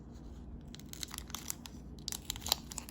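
Crinkling and tearing of a Pokémon card pack's foil wrapper being cut open with scissors, a run of quiet close-up crackles and snips that grows busier toward the end, with no voices.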